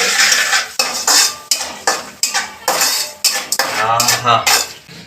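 A metal spoon stirs cooked rice with cashews in a steel vessel, making close, loud clinks and scrapes in a quick, uneven rhythm of repeated strokes.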